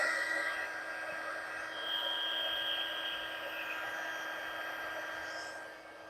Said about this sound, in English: I got to warm my heat tool up for a second so it's nice and hot.